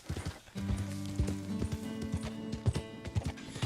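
Hooves of a Dutch Warmblood horse in a video game, a quick, uneven clip-clop of steps over a low, steady tonal background, moderately close.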